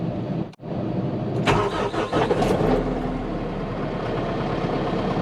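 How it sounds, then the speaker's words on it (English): A tractor engine turns over and catches, then settles into a steady, loud idle as it warms up at a job site where gravel is being delivered, with a brief starter burst before the continuous rumble. "Get the tractor warmed up first, since we're going to be using it first."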